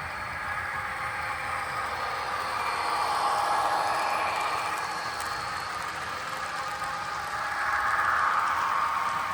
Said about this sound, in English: There goes the streetcar.